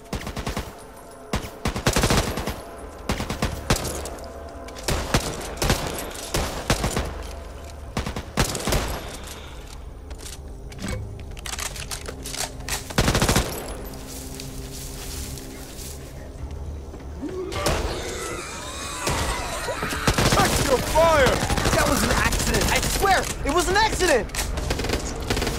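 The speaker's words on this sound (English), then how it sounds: "SMG here" Rapid SMG bursts crackle in Back 4 Blood gameplay, short fast-repeating volleys scattered through the scene amid action sounds, with character voices calling out over the firing.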